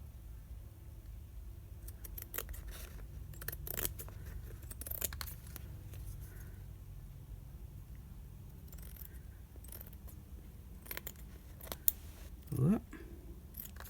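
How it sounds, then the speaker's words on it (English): Scissors snip around a piece of stamped cardstock, trimming it from the back, with a series of scattered crisp cuts and light paper rustles, close and fairly quiet. "we're just going to trim around this from the back"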